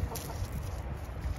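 Backyard chickens let out to roam during yard work cluck softly and steadily, low and close among quiet outdoor background noise.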